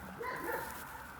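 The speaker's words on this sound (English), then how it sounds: "There'll be so much barking." A dog barks once or twice in the distance at a disused builders yard, short and faint over a background hum, with no talk.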